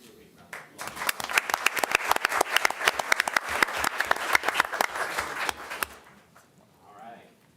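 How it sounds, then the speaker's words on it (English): Council-meeting audience applause, a dense burst of many hands clapping that builds quickly, holds steady for several seconds, then tapers off into quiet room tone. "Give it a big round of applause."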